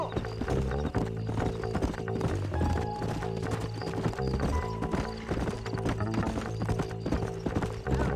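Horse hooves clip-clop steadily in the video game Red Dead Redemption, with a horse whinnying and game music playing continuously beneath the hoofbeats.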